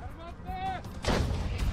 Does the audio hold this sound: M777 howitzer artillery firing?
yes